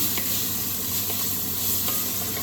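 Chili ingredients steadily sizzle and fry in a pot while being shoved around, with soft scraping stir strokes over a constant close hiss; no one talks.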